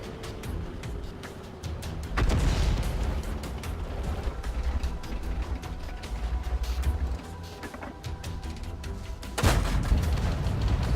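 Booming tank cannon shots in World of Tanks, one heavy blast near the start and another near the end, with rumbling engine and battle noise in between.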